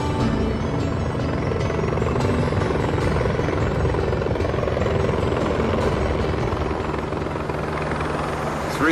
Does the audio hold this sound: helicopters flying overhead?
yes